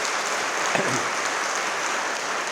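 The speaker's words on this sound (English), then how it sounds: "Give them a great round of applause." Audience applause in a prison gathering at Attica, a steady broadband wash of clapping that fills the whole stretch at even loudness with no talk over it.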